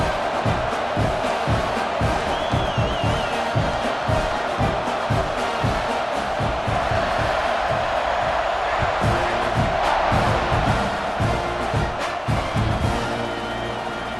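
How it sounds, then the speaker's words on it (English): Stadium crowd in the video game EA Sports College Football 26 roars and cheers continuously, a loud dense wall of voices with rhythmic chanting pulses throughout. "Do you think this crowd's going to get loud when their defense comes on the field?"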